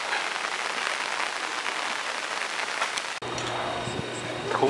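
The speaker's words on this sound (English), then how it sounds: "Oh, the rain's getting worse." Heavy rain falls outdoors in Kyoto, a constant close hiss that shifts character partway as if moving under cover, with faint background sounds but no clear talk.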